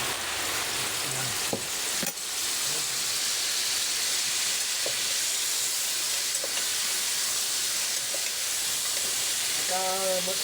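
Karas-karas snack frying in oil gives off a steady, loud hiss and sizzle throughout, with a few faint clicks and a brief voice near the end.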